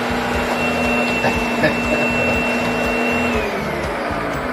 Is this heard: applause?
no